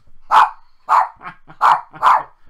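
Several dogs, big ones among them, bark in a quick series of about four loud, close barks at a steady rhythm, with faint growly sounds between them.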